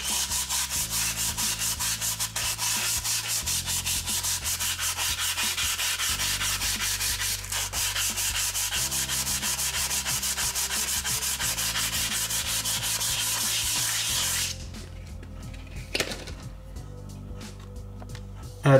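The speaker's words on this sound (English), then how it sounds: "the only thing for it is more sanding" Dried filler around window frames is sanded by hand in continuous, steady rasping strokes, close and loud for about fifteen seconds before the sanding stops and a quieter background follows.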